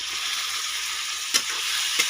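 Freshwater snails and potatoes fry with spice paste in hot oil, giving a steady close sizzle broken by two brief scraping stirs, with no talking.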